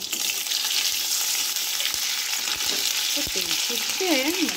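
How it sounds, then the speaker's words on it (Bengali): Pointed gourd frying in a pan, a dense continuous sizzle with occasional stirring knocks, fairly close and without speech. "এটাকে ভালো করে ভেজে নিতে হবে। ঢাকা দিয়ে এটাকে একটু ভেজে নেব।"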